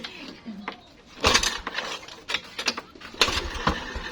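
A repaired motorcycle engine running after being pushed and restarted, a rough uneven idle with revving bursts and metallic clinks, close by, while people talk over it.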